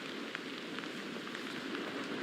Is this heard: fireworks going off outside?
no